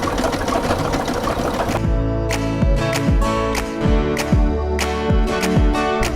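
A sewing machine stitches zigzag designs along a lunch bag handle strap, first in a fast continuous run and then in a series of short, evenly spaced bursts, close and clear.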